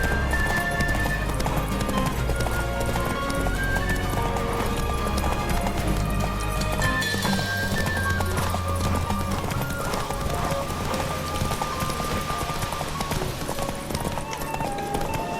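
A horse gallops in The Witcher 3, its loud, rapid hoofbeats running steadily over dense game sound, with a whinny partway through.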